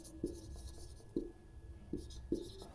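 Chalk or marker strikes a board during a classroom lesson, four short distinct taps at irregular intervals, near and fairly quiet, with a faint steady hum behind them.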